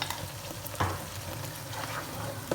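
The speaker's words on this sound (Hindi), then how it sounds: "और अब यहाँ से हमने मसाले की अच्छी तरह से करनी है भुनाई, मीडियम हाई फ्लेम पर" Spices with Kashmiri red chili powder sizzling and frying in oil over a medium-high flame, a steady crackle broken by a few soft stirring scrapes.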